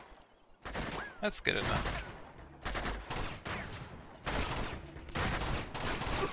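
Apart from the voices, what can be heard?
gunfire from a gun in the video game Uncharted 2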